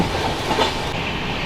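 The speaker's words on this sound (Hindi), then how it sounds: "फुल एक्शन में है डीजल लोकोमोटिव, एकदम धुआं उड़ाते हुए, गर्दा उड़ाता हुआ भाग रहा है एकदम" A diesel locomotive hauling the Humsafar Express, with a loud, close, steady rumble of rolling wheels and rail clatter throughout a brief stretch.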